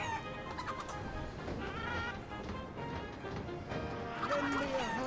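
A chicken clucks busily in a Wallace and Gromit video game, with repeated short clucks over a dense, steady bed of game noise and music.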